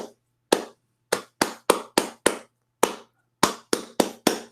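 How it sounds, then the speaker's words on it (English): Hands clapping alone in a halting, irregular pattern, with about a dozen sharp, close claps separated by uneven gaps and short bursts in a quiet room. "Or did you clap in a non-musical way like this?"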